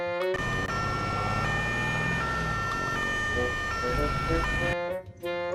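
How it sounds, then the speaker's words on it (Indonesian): A toy ambulance siren wails in a steady, repeating electronic tone, close and fairly loud for about five seconds before cutting off, with a voice talking faintly beneath it. "Wow, ini mobil ambulan."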